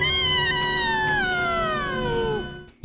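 A person gives one long, drawn-out meow imitation, a wavering cry that slides steadily downward in pitch before cutting off.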